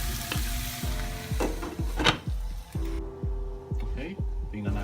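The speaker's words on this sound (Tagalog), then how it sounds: "igisa lang natin yung giniling hanggang sa maging brown na siya" Ground pork giniling sautéing in a pan, a sizzle cut by a regular pulsing low throb and scraping stirs, with a voice faintly underneath.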